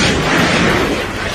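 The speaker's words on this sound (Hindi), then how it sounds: "बम फटने की आवाज से रेस्क्यू ऑपरेशन में जुटे लोग बुरी तरह कांप गए।" A bomb blast near a house roof in Gaza, a single loud, booming burst that fills the whole short moment with no other sound.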